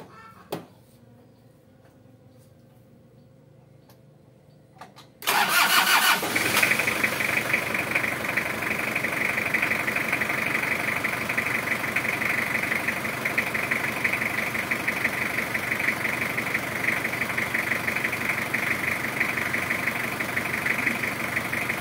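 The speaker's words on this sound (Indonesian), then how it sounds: "Jadi kalau sudah, kita nyalakan mesin sekarang." A car engine is started during a DIY air-conditioning refrigerant recharge: a quiet lead-in with a small click, then a sudden crank and catch into a steady, even idle that hums on for a long stretch.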